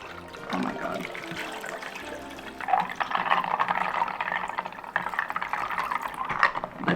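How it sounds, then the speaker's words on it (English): Water poured into a cup of spicy food during an eating session, a steady splashing, gurgling pour that builds louder partway through and carries on for several seconds, close to the mic. "Pour the water in."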